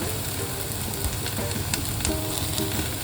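Butter and oil sizzle steadily in a pan while white sauce pasta is being made, a continuous close frying hiss with small crackles and a faint stir or two.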